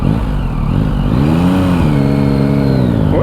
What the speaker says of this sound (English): Here I am stuck in traffic.